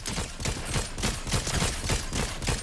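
Two squads trade gunfire in a shooter video game, with dense, continuous rapid shots and bursts sounding at a distance and overlapping in an unbroken fusillade.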